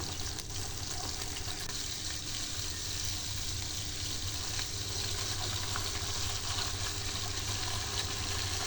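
Onion and garlic paste frying in hot oil, a steady close sizzle and hiss that stays constant and loud throughout with no talking.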